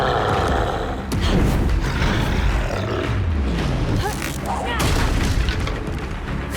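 In the video game Hogwarts Legacy, Confringo fire-blast spells go off during a troll fight, producing loud booming blasts and crackling bursts layered with game noise and battle grunts across several seconds.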